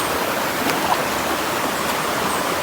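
Clean river water runs steadily, a constant close rushing wash while saltfish is rinsed in the stream.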